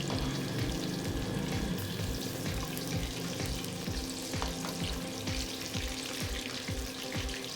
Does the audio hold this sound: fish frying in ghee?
yes